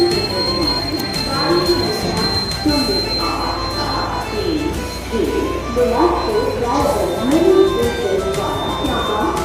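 Busy platform at Bilaspur railway station, with a train rumbling and screeching wheels, a steady tonal whine and a constant crowd murmur, loud and close, and people talking throughout.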